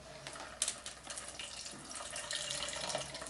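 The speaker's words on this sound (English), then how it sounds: "Pour off the water" Water is poured off a container of jumbo water-growing gel spheres, a soft continuous trickle and splash with a small clatter at the start, close by and fairly quiet.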